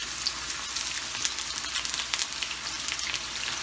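Sliced onions dropped into hot oil, a dense and steady sizzling crackle that runs unbroken at close range with no voices over it.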